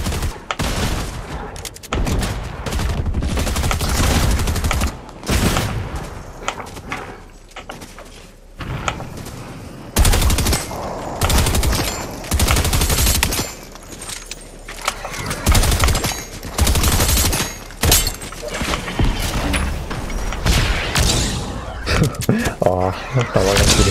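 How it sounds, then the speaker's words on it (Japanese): A DMR automatic sniper rifle firing repeatedly in the Fortnite video game, a long stretch of loud, close, rapid sharp shots in irregular bursts, mixed with mechanical clatter and voices talking throughout. "DMR って。 オートマチックスナイパーライフルか。"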